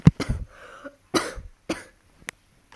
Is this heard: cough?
yes